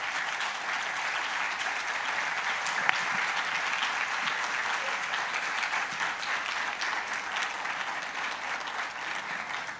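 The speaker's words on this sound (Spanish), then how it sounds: "Les damos un aplauso, por favor" An audience applauds steadily and evenly at a lecture on the Bible and culture, sustained clapping from a seated crowd heard at moderate distance with no talk over it.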